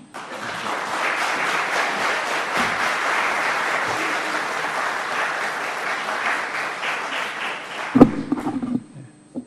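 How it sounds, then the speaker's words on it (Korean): A church congregation at a Sunday worship service gives a sustained round of welcoming applause, dense steady clapping for about eight seconds that swells slightly, then breaks off with a brief bump and fades out. "나오실 때 힘차게 한번 환영의 박수를 해 주시겠습니다."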